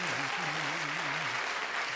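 An audience at a live Kyrgyz music performance applauds steadily in a dense, even wash of clapping, while a voice speaks briefly over it.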